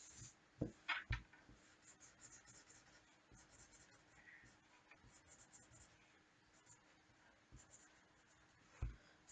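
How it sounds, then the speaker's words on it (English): Pen or pencil drawing a flower stem on paper, a soft continuous scratching with a few sharper taps and strokes, close and quiet with no talk. "I need to get a green texture. And I need to draw the stem."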